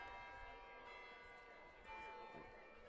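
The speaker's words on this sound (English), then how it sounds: "The bells are chiming here in the background" Church bells chime faintly in the distance during a high school lacrosse state championship game, their steady ringing tones sitting under an announcer's continuous commentary and crowd noise.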